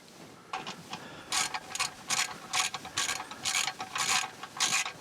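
A spanner works the lock screw on the hydraulic quadrant of a David Brown DB990 Selectamatic tractor, giving a run of sharp, close ratcheting clicks in regular bursts after a brief quiet start.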